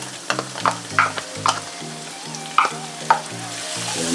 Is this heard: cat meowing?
no